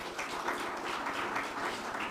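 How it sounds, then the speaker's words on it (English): Audience applause at an African Union heads of state session, a steady wash of clapping from a large hall that holds at an even level for about two seconds. "So please give them a round of applause."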